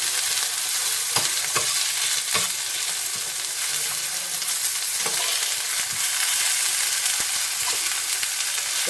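Potatoes with ground spices, including cumin powder, being sautéed in a hot pan: a loud, dense, continuous sizzle with intermittent scrapes and knocks of a spatula, close up, no talk.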